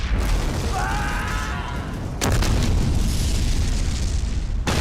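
A deep, rumbling explosion roars continuously with sharp bursts cutting in, loud and booming like a film blast scene, as a ship blows up in the film Titanic 2.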